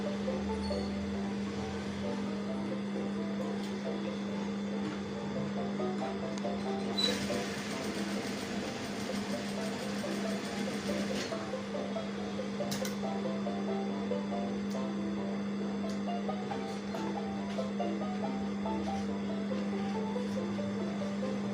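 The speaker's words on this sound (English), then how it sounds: "So I'm going to stitch it" Sewing machine stitching a senator pocket, a steady, low-level mechanical hum with a rapid ticking rhythm running throughout, close by and uninterrupted.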